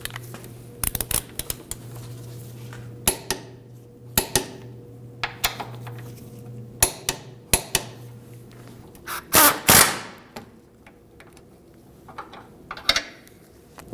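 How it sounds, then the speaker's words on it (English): A torque wrench tightens the control arm bracket bolts on a 2013-2015 Subaru XV Crosstrek, giving a series of sharp metallic clicks and ratchet snaps spread across the stretch, with one louder rattling burst near the middle. "We'll tighten the two bolts holding the bracket on to 110 foot-pounds."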